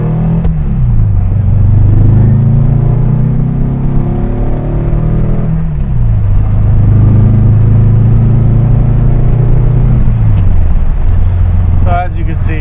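A 1963 Porsche 356 Carrera 2 coupe engine drones loud and close, climbing in pitch through several gear changes as it cruises and revs.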